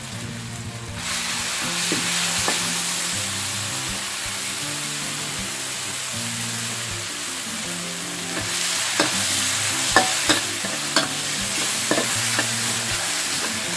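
Loud steady sizzling of chilies frying in a hot pan, with repeated scraping and clinking as they are stirred, for Thai holy basil stir-fry.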